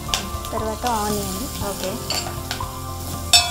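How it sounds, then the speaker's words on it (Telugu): Chopped onions, green chillies, chilli and turmeric sizzle in a pan for a spicy chapati churma, a steady close frying hiss with stirring scrapes and a clink of the spoon, while a voice talks briefly over it. "ఇవన్నీ వేసి ఫ్రై చేయాలి కాసేపు"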